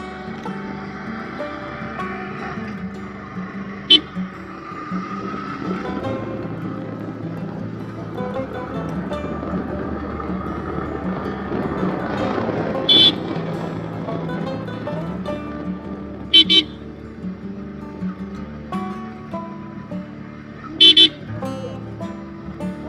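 A motorbike engine running on a rough mountain road through tea gardens between Darjeeling and Siliguri, a steady low drone throughout with several short horn toots and a brief swell in the middle.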